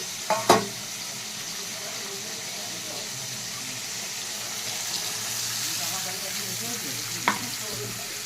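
Cabbage curry fries in a pan with chilli, cumin and turmeric powder, a continuous low sizzle broken by a few sharp knocks of a spoon at the start and once near the end.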